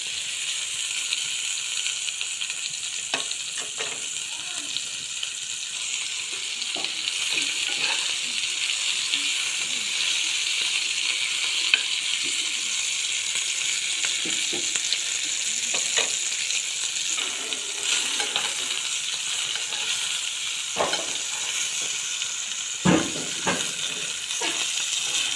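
Spicy chicken fries in a pan while being stirred, giving a steady close sizzle and hiss with occasional scraping clinks of the utensil, alone without talk.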